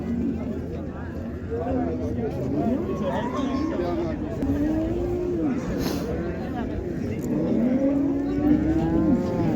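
Cattle and oxen moo repeatedly at the Qarshi livestock bazaar, several drawn-out lowing calls near and far amid crowd chatter and bargaining voices.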